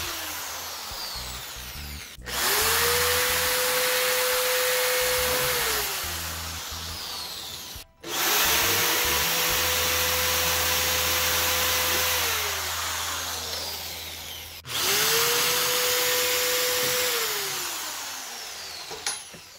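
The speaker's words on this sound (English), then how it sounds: "Let's get to the drilling." A power drill bores into a wall to mount DIY gameroom shelves, whining up to a steady pitch in three separate bursts of a few seconds each, loud and close, with short pauses between them.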